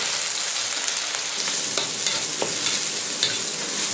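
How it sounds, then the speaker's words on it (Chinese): Aromatics stir-fried in a wok after sliced meat for a cauliflower dish, giving a steady loud sizzle with scraping stir strokes and occasional spatula clicks, no talking. "下入小料炒香。"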